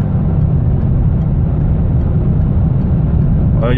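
A car engine drones steadily at high motorway speed, around 130 km/h, while overtaking a Volkswagen Lupo on the road, a loud continuous low rumble with road roar throughout.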